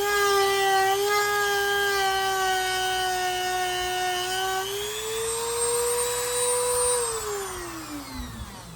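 A high, steady whine from a power tool cleaning the tang stamp on a 1942-45 Queen City swell end jack knife during restoration. The pitch climbs slightly midway and then drops away as the tool winds down at the end.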